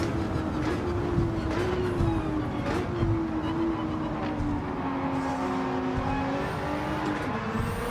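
A race car on sports hard tyres in the Tokyo 600 video game race whines with a steady, loud engine note that gradually sags in pitch as it brakes, heard alone.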